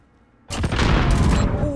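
Video game gunfire bursts in abruptly after a near-silent start, a loud sustained volley of rapid shots and booming impacts that keeps going, with a thin tone running through the later part.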